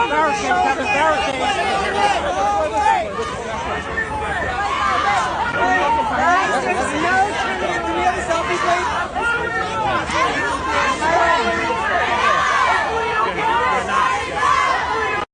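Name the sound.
crowd of protesters gathered outside a venue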